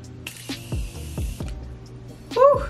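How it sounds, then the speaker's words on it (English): Morphe setting spray is misted over a face in a single hissing burst, followed by low thumps, clicks and handling noises from the bottle, close and moderately loud. "And I'm just gonna spray this all over my face."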